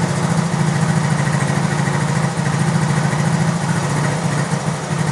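A 1977 Honda ATC 90 three-wheeler runs steadily close by, its small single-cylinder engine holding a loud, even idle with a throbbing low pulse throughout and no talking.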